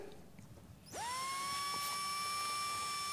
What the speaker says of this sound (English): is painting with a drill